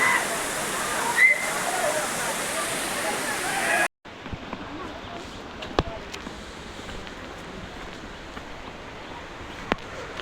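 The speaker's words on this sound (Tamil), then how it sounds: "ஃபால்ஸ் பரவாயில்ல, தண்ணி நிறையா வருது." Constant rushing roar of a waterfall near Valparai, loud at first, then a sudden cut to a quieter stretch of flowing water with occasional sharp clicks.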